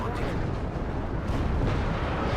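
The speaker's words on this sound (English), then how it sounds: "Wingfire taking some rocket artillery. Looks really cool. All of the explosions there." Rocket artillery explosions in the WARNO strategy video game, a dense burst of booming detonations rolling together into a loud, sustained roar.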